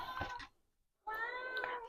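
A pet cat meows twice near a crochet blocking setup: a short cry at the start, a silent gap, then a longer, clearly pitched meow that carries to the end, close and loud.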